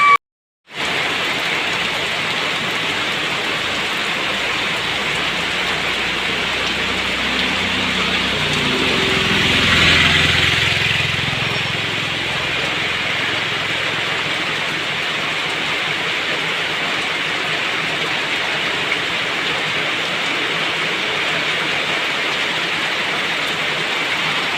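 Heavy rain pours down steadily as a dense, constant hiss that fills the scene from start to finish, with a faint low rumble swelling briefly in the middle and no voices.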